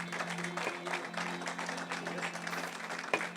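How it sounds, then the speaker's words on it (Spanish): Audience applause for the actors at a church service, a dense patter of clapping that runs steadily throughout over a low sustained tone, ending with a sharper knock near the end. "Un aplauso para los actores."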